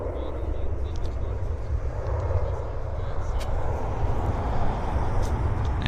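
JAL airliner on its takeoff roll at Vancouver Airport, a continuous distant jet engine rumble and roar that swells slightly over several seconds, with a voice speaking faintly over it.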